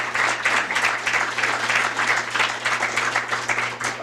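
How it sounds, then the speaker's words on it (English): Warm applause from attendees at a Chamber of Commerce luncheon fills the room, steady and dense clapping throughout, moderately close, with no talk over it. "Can we support that with a round of applause?"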